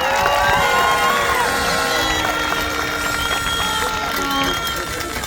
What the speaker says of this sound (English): A round of applause for our players, man.